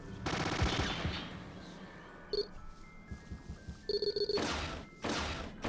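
Rapid bursts of gunfire from the video game Battle Isle, a loud rattling volley at the start and another near the end, with short electronic beeps between them.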